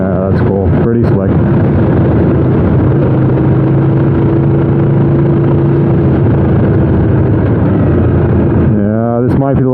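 Aprilia RSV4 sport motorcycle, 2015 model, with an Austin Racing exhaust, revs loudly and steadily while being ridden, its engine note dipping sharply with quick clicks of quick-shifted gear changes near the start and again at the end.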